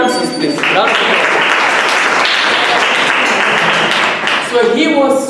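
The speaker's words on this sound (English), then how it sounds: "A round of applause for the answers, please." Loud, dense applause from secondary school students in a hall swells and holds for several seconds, with voices speaking just before and as it trails off.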